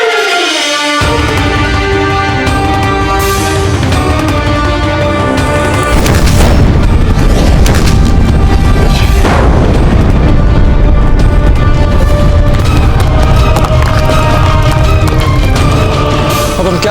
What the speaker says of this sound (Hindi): ये मुगल अपनी तोपों से हम पर गोले बरसाए जा रहे हैं